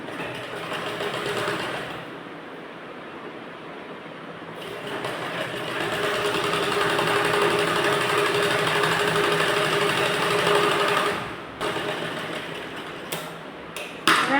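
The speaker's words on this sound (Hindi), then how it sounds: "इसको स्टिच करते समय इसको हम सिलाई लगाएंगे" A sewing machine runs almost steadily while stitching a blouse sleeve, a dense whirring hum that pauses briefly twice and ends with a few small clicks; nobody talks.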